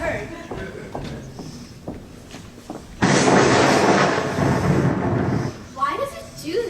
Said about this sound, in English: the lightning says something to the thunder, and the thunder answers it back